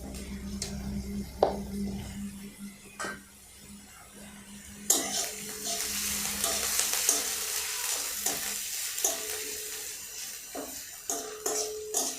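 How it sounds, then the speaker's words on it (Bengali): Chopped onion and ginger fry lightly in oil with a gentle sizzle and occasional utensil clinks. A brief cough comes early, then the hiss grows fuller and steadier. "এইভাবে তেলের ওপর হালকাভাবে ভেজে নেওয়ার পর আমি ওর সঙ্গে মেশাবো"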